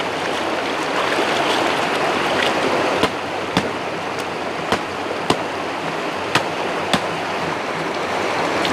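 Steady rush of running water used for washing clothes, continuous and close, with a few sharp knocks or taps scattered through the second half.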